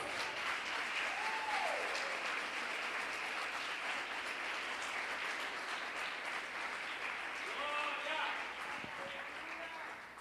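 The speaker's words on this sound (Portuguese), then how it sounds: "Vamos aplaudir o Senhor Jesus?" A church congregation applauds during a sermon, sustained dense clapping filling the room for the whole stretch, while a voice carries on over it.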